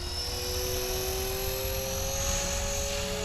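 A Blade Fusion 360 RC helicopter on a 4-cell battery spins up for liftoff, its rotor and motor giving a continuous close whine with a steadily rising pitch over a constant airy drone.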